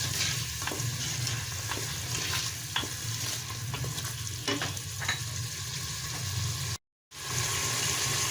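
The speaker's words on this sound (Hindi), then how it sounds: "अब हम इसको अच्छी तरह भूनेंगे।" Mutton cooked with yogurt for aloo gosht sautés in a pan, a steady close sizzle with repeated scraping stirs throughout, briefly cut to silence near the end before the frying resumes.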